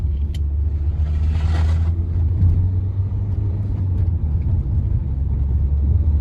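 Renault Scénic III Phase 2 with a 1.5 dCi 110 hp diesel engine, accelerating along a straight road, heard from inside as a loud, steady low rumble with road noise throughout and no talking.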